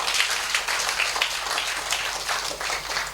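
A church congregation at a Tamil Christian message bursts into sustained applause, a loud, continuous crowd clatter of many hands with no break.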